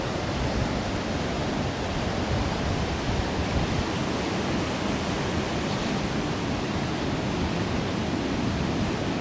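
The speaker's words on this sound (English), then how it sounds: "Looking quite choppy out there today." Rough, choppy sea waves break close to the beach at Hemsby, a steady dense wash of surf with wind noise, loud and continuous with no talking.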